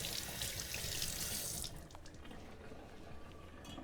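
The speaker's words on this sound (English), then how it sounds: "wash this all up. Raw meat, soapy water on the knife and hands." Kitchen tap water running over a knife and hands being washed with soapy water after handling raw meat, a strong steady gush that drops to a softer trickle and drips partway through.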